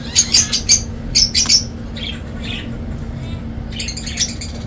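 Lovebird chicks in a nest give thin, high chirps in short clustered bursts, close by and fairly loud. A soft steady hum sits underneath and there is no speech.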